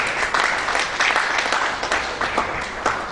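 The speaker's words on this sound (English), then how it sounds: "Ladies and gentlemen, can we have a huge round of applause" A conference audience at the eHaryana 2014 technical session claps in a continuous round, many hands blending into an even, moderately loud patter that carries through the whole clip.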